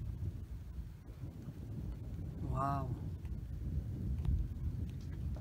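A crack of thunder from a violent May storm in Gironde, France bursts out amid steady rain and wind, rolling briefly before fading, with a person's exclamation nearby.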